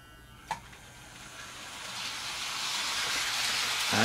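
A Flying Scotsman model train set starts running on its track with coaches attached, giving a soft steady hiss that slowly swells, with a brief click near the start.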